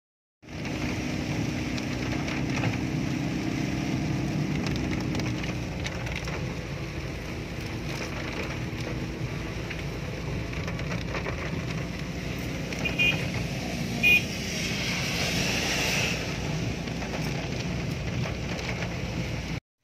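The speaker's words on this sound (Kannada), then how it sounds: "ಆಚೆ ಮಳೆ ಬರ್ತಿರೋದ್ರಿಂದ" Heavy rain falls outside during a road trip from Dharmasthala to Kukke Subramanya, a dense continuous hiss of drops on a surface that stays steady and close throughout, with no talk.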